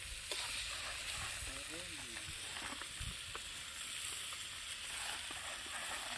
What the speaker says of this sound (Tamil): தக்காளி இப்போ போட்டு அதோட சேர்த்து நல்லா வதக்கிக்கணும்